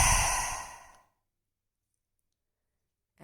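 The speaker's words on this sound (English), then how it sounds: "Last one, take a deep breath." A deep yogic breath fades out over about a second as a long, audible sighing exhale. Near silence follows, and a faint breath sound returns at the very end.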